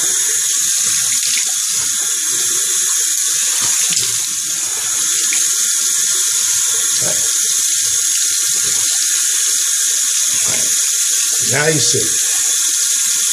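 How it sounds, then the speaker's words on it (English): A bathroom tap runs steadily into a sink while someone rinses their face after shaving, a loud continuous rush of water with occasional splashes, and someone speaks briefly over it. "I'm going to rinse."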